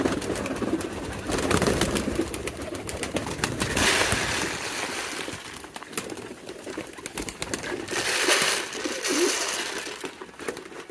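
Many pigeons coo and murmur continuously over a busy, noisy pigeon market background, with occasional rustling and wing flutters.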